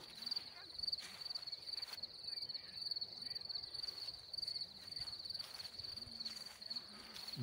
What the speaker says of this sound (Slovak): Počujeme tie cikády.